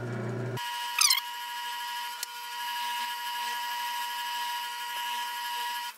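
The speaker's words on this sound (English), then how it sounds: "I'm gonna use my burnisher, the sand thingy" A rotary burnisher sands the edge of a leather satchel piece with a steady, high-pitched whine that runs alone for several seconds, with a brief rising pitch as it spins up.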